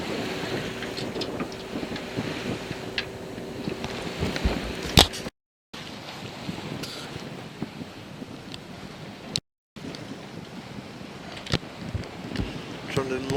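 Wind rushing over a heeling sailboat making about six knots at sea between Faro and Albufeira, a steady close buffeting roar with brief gaps and a voice now and then.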